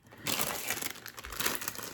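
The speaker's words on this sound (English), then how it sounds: "Little paper bag. Let's see what's inside this." A small paper bag crinkles and rustles as it is opened, with a burst of close, crisp crackling that continues for nearly two seconds.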